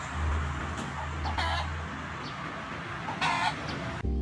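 A chicken clucks in a steady, rhythmic pattern in rural Chengdu/Chongzhou countryside, moderately close over a constant outdoor background, with a few sharper bursts layered in.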